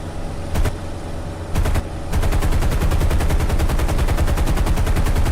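Aircraft machine guns rattle in a video game strafing run, with two short bursts followed by a long, loud, steady stream of rapid shots.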